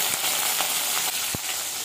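Mustard seeds and curry leaves crackle and sizzle in hot oil in a pan, a close, steady hiss with a few sharp pops scattered through it.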